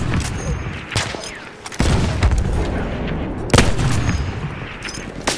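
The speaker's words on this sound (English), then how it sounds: "Artillery!" Artillery fire in Battlefield 1 conquest on the Sinai Desert map: heavy booms and sharp blasts land several times amid rattling battlefield gunfire, loud and close, with brief shouted voices among the explosions.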